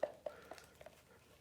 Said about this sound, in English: I like to smash up against the side to where it's kind of mixing everything.